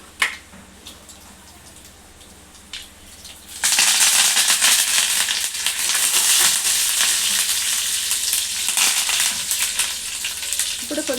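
Curry leaves, with dried red chillies already in the pan, hit hot oil and burst into a loud, steady sizzle that carries on without pause after a quieter stretch of faint kitchen noise.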